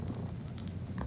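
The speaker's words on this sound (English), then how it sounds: "do you guys hear that cat?" A cat purrs in a steady, continuous low rumble, close by and fairly quiet, with no voices over it.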